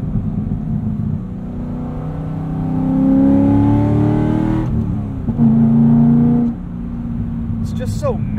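A manual 2012 Chevrolet Corvette Grand Sport with a 6.2-liter LS3 V8 pulls hard from inside the cabin, its engine note rising steadily, easing, then climbing again before falling away, with people talking over it.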